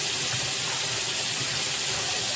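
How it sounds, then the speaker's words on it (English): Soapy water runs steadily while a cast iron pan is washed at a sink, a continuous close splashing hiss with no voices. "Soapy water in a cast iron pan."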